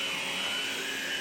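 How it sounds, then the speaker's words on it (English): A 12-volt vacuum cleaner with its power head running on carpet gives a steady, loud whine with a high-pitched motor tone, close up and unbroken. "And I think it's got all right suction for a 12 volt vacuum cleaner."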